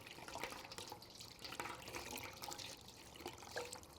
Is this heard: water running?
yes